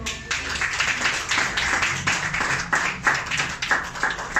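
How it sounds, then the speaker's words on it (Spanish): A church congregation claps steadily and energetically together, a dense continuous applause with rhythmic accents, fairly loud and close. "Denle un fuerte aplauso al Señor."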